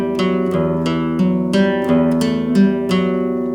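Fingerstyle guitar plays a steady hammer-on riff in even eighth notes, with a low bass note plucked by the thumb ringing beneath it. The playing is close and clean, with no talking over it.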